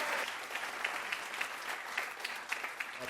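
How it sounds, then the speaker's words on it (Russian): An audience at a comedy stage show applauds the performers with a steady, dense wave of clapping and no voices over it. "заставляли зал много раз взрываться от смеха и поддерживать артистов бурными овациями"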